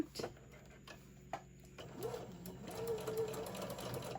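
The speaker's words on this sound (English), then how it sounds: "I'm going to do my back stitch all the way across again" A sewing machine back-stitches across a summer tote bag, giving a light, rapid mechanical whir that builds over the second half after a few quiet clicks. A person talks faintly over it.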